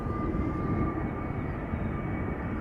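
A KLM Embraer 190 jet airliner gives off a faint, steady engine whine and hum with no change in level and no talk.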